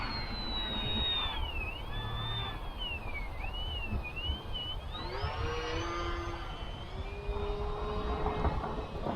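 An XK A600 radio-controlled model plane flies overhead, its small electric motor whining steadily and sweeping up and down in pitch as it passes, with wind noise underneath throughout.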